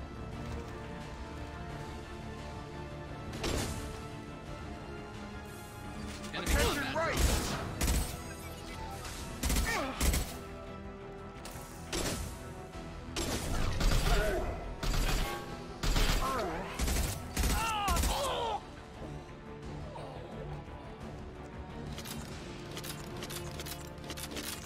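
Gunfire in the video game Mass Effect 2 on maximum difficulty: bursts of shots cluster midway in the clip, while a lower game ambience and mechanical clatter run underneath.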